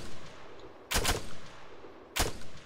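Two sharp gunshot bursts crack out in an Arma 3 multiplayer firefight, roughly a second apart, standing clearly above a steady background rumble.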